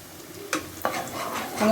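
Chopped onions sizzle and crackle steadily in oil as they are stirred in a pan, with a couple of sharp scraping clinks, close and moderately loud.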